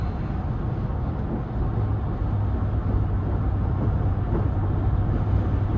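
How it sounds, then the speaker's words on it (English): Wind roaring around the roof crossbars of a 2011 GMC Yukon with a 5.3 V8 while driving, a steady low broadband rush blended with road noise, constant and fairly loud throughout. "in terms of the wind noise, I'm hearing quite a bit up top from those crossbars"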